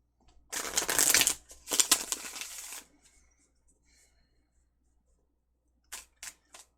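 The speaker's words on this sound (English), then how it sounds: "let me get another shuffle here." A deck of tarot cards being shuffled in bursts, close and fairly loud, riffling for about two seconds, pausing, then a few short quick flicks near the end, with no talking.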